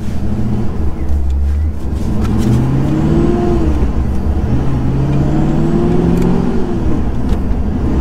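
A supercharged 900 HP HSV running on E85 idles and blips nearby, the engine note rising and falling in repeated swells with a whining supercharger over a deep rumble.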